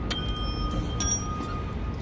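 A bell on a teeter-totter style rocking chair rings faintly, with a few light strikes leaving a thin ringing tone in a quiet setting.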